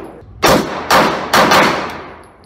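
Three pistol shots from an X5 fitted with a Romeo 1 sight, fired at about 5 yards. Each is a loud, close blast with a long echoing tail, spaced roughly half a second apart.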